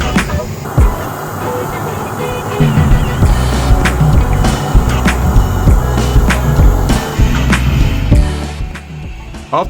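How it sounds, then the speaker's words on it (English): A 1/5 scale radio-controlled S-tank driven by a gas turbine engine runs outdoors on rough terrain, giving a loud, continuous roar with rumbling track noise and scattered clanks throughout. "gas turbine-driven S-tank in 1/5 scale"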